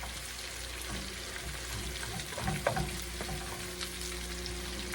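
Cabbage is dropped into hot oil and fat and tossed to coat it. A steady close sizzle runs throughout, with a brief burst of stirring and clatter midway.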